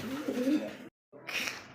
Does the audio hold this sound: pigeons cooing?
yes